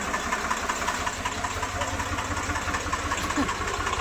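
A tractor engine runs steadily on a farm field, a continuous close mechanical drone with a low rumbling throb and no pauses.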